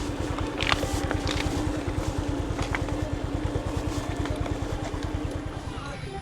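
A tractor engine chugs with a steady low rhythmic thrum, running continuously nearby in a hill village, while a voice speaks faintly over it.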